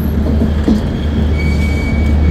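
A long-distance express train rolls slowly into platform 11 at Sealdah station, its wheels rumbling and squealing faintly on the rails in a steady, close roar with a thin high metallic whine running through it.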